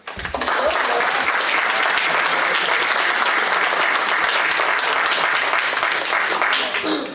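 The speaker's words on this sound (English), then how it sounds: "I want everybody to give her a round of applause" An audience at a township council meeting breaks into loud, dense applause that holds steady for several seconds, then tapers slightly at the close.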